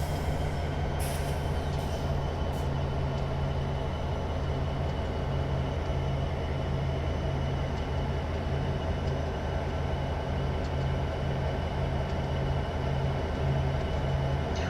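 A steady diesel rumble from an SD70MAC locomotive in Train Simulator 2015 at Horseshoe Curve, continuous and even throughout, with faint clanks and hiss layered over the engine drone.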